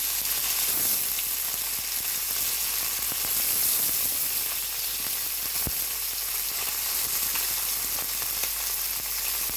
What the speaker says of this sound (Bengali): এখন একটু হালকা করে ভেজে নিচ্ছি